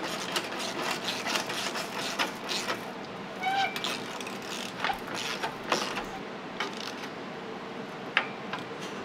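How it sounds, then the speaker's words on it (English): A ratchet tightens exhaust clamp bolts on a VW MK4 R32 during a high-flow catalytic converter install in a garage, making irregular close clicking bursts with a few metallic squeaks. "final step is to tighten up the 217s on our back clamp"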